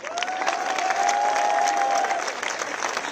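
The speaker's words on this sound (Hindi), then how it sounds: "इसका हम जश्न मनाएं तालियों के साथ।" Sustained crowd applause at a protest at Jantar Mantar in the capital, dense steady clapping filling the space with a tonal whistle or shout riding over it before the clapping carries on alone.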